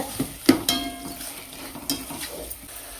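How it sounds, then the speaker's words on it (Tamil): Potatoes with a little turmeric being sautéed in a pan, heard as scattered stirring scrapes and soft clinks of a utensil against the pan over a low, quiet background. "உருளைக்கிழங்கு போட்டு ஒரு நிமிஷம் வதக்கிக்கோங்க"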